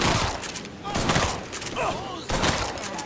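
Shotgun fire in the video game Mafia 3, loud bursts of combat gunfire at about 0.5, 1.2 and 2.5 seconds amid continuous battle noise, with someone talking over it.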